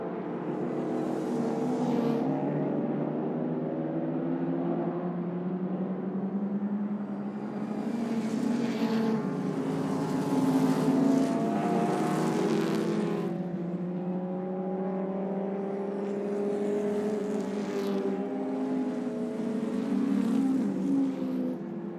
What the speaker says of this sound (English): That's that car of Billy Crosby, the second of the Crosley 9S's